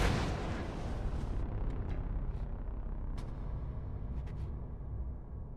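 A bomb going off in a video game, a heavy boom at the very start that trails into a long, low rumbling decay, fairly quiet overall, with a few faint clicks afterward.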